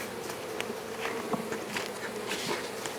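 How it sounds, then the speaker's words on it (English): Dense, continuous buzzing of a honey bee swarm close by during a thunderstorm, a steady droning hum with individual bees flitting past. "Oh, there's more bees up there."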